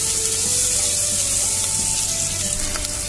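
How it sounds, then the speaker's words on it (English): Finely chopped onion sautéing in a pan for chicken dum biryani, a steady close, loud sizzle with faint stirring, no voices. "Now we'll saute the onion until it becomes softer and translucent."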